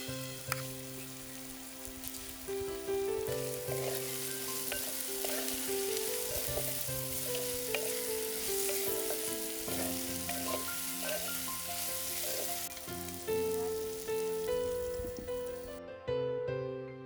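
Spices, salt and green onion sizzle and crackle steadily in a pan for veg manchurian, the bright frying hiss running under louder background music throughout.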